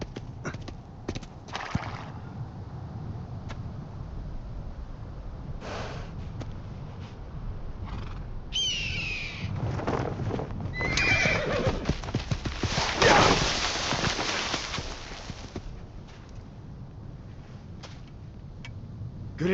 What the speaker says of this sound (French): Mon cheval.